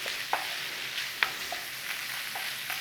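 Bacon frying in a pan for a spaghetti frittata, a quiet constant sizzle with a few sharp pops and the occasional stir, no one talking.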